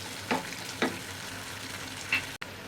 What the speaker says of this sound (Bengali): এখন দিয়ে দেবো শুকনো মরিচ বাটা, দিয়ে আমি একটু ভেজে নেব।